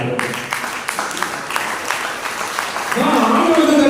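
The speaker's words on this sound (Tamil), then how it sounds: "நல்ல கைத்தட்டல் ஆண்டவர்." Congregation clapping inside a church during a Lenten praise and worship service, a rippling mass of claps that fades into a sustained sung or chanted voice near the end.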